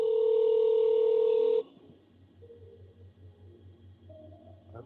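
A telephone keypad tone sounds during a phone call, one steady, clear electronic beep held for over a second, then fading to a faint, low, pulsing hum.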